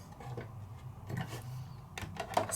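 A die cutting machine rolls cardstock through with a low, steady mechanical rumble and faint ticking clicks, close by and unaccompanied by talk.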